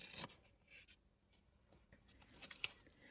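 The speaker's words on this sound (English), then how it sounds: "I applied a second coat of paint to the little bench, which is now dry, so I can remove the masking tape." Masking tape is peeled from a freshly painted dolls house bench, giving faint close rasping and scratchy peeling sounds with a few small ticks, quiet and unaccompanied.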